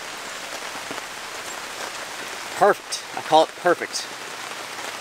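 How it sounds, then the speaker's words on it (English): Heavy, steady rain drums across the roof and walls of a truck camper during an all-day storm, a dense continuous patter with someone speaking briefly over it. "I have been waiting for like a really good rain event, something that lasts like all day long."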